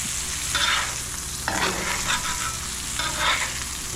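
Red snapper fillets fry in oil on a Blackstone griddle, a steady sizzle with brighter crackling bursts as the fish is slid and stirred around the hot surface, no voices.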